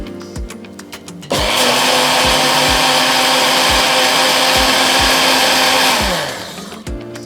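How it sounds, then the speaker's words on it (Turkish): A blender whirs loudly and steadily for several seconds while blending basil sauce with olive oil, before winding down, with soft rhythmic tapping before and after. "Blenderımızı kapatalım."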